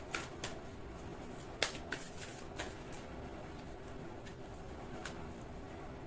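Tarot cards being shuffled and drawn, heard as faint, sparse riffling and snapping card sounds with a few sharper clicks over a steady quiet background hiss.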